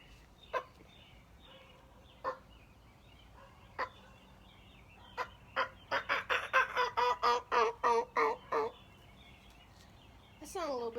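Hand-operated turkey call imitating a turkey: a few spaced single yelps, then a rapid rhythmic run of about a dozen louder yelps that climbs, close and clear.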